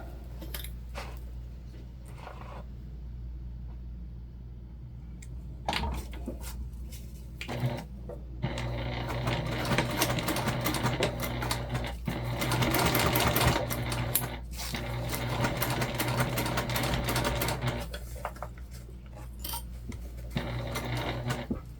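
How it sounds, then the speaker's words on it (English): Sewing machine stitching all the way around a fabric waist pack, its close, steady whirring running in long bursts with short pauses and a few handling clicks, no talk. "we're going to go ahead and sew all the way around."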